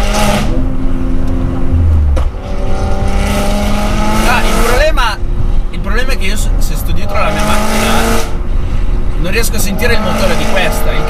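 A BMW M3 engine and exhaust roaring loudly from up close, revving and shifting through gears, with people talking over it.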